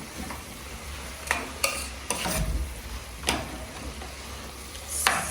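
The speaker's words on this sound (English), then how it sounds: "Then you're going to stir." Pork seasoned with a little salt is stirred in a frying pan, a spoon or utensil scraping and clinking against the pan in irregular bursts over a low, steady sizzle, close up with no talking.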